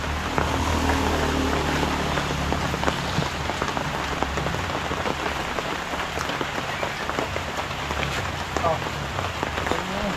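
Steady rain pours onto surfaces nearby, a dense, unbroken patter of drops with a low rumble underneath that stays loud and even, while people talk in the background.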